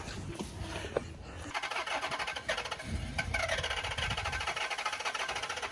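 A 392 engine being cranked over after an intake manifold install, a steady rhythmic churning drone that runs nearly the whole time, briefly dipping and then resuming, loud and close with no talk.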